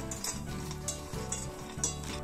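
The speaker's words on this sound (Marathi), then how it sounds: "त्याच पॅन मध्ये आपण काजू थोडेसे शेकून घेऊ." Cashews roast in a pan with a soft, continuous sizzle under a low steady hum, with light periodic scrapes as they are stirred.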